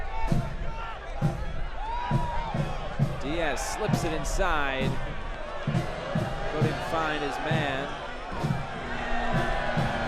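Stadium crowd at a Forward Madison FC versus North Texas SC soccer match, a steady roar with swelling cheers, rhythmic drum thumps and whistle-like calls, while a commentator talks over it.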